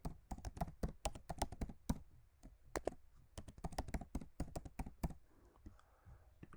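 Fingers typing on a computer keyboard, quick bursts of close, crisp key clicks with short pauses between words, in an otherwise quiet room.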